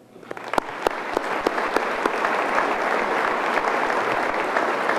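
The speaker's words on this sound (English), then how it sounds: "Please join me in giving these men and women a round of applause." Sustained applause from a commencement audience at Allegany College of Maryland's 50th commencement, cheering the 2012 graduating class; dense steady clapping builds quickly and holds, with a few sharper claps standing out near the front.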